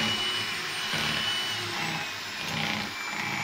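Electric hand mixer beating cake batter in a home kitchen, a steady high-pitched motor whine with a slight wobble as the beaters move through the bowl, close and continuous, no talking.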